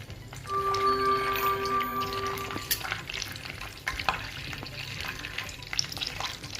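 Halved onion sizzling in melted butter in a pan for pav bhaji, a soft steady frying hiss with occasional stirring scrapes and a brief tonal ring near the start, no talking.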